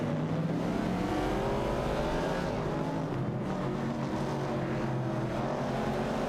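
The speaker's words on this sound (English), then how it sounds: "Super Lacroix is piloting a Dodge Challenger, while ST4NBZH is at the wheel of a Pontiac Firebird 70." Video game race between a Dodge Challenger and a 1970 Pontiac Firebird, engines droning loudly and steadily throughout with layered overlapping motor tones and no talk.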